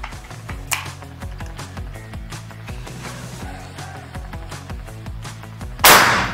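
A budget PCP air rifle fired during a muzzle velocity (FPS) test gives one sharp, loud crack near the end, standing out over a steady droning background.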